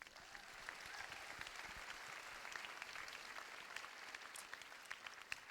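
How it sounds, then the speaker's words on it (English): A graduation audience claps for a teacher in a sustained, even patter of applause that stays faint and distant throughout, with no voices on top. "I think Mr. Woods deserves a little applause."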